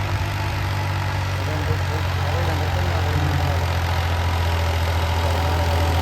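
A Massey Ferguson 254 tractor engine runs at a steady idle, a continuous low throbbing drone close by with no pauses.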